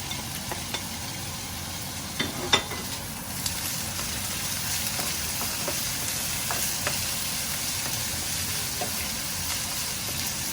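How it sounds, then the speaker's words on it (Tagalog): Salt-and-pepper marinated meat fries with onion and garlic in a pan, a steady close sizzle throughout with occasional light clinks of stirring. "Kaya natin ng maluto ng konti sa sibuyas at bawang."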